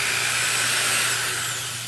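A Ryobi D43 corded 3/8-inch drill with a planetary gearbox runs steadily at a near, constant whine with a low hum, unloaded and with no talk over it.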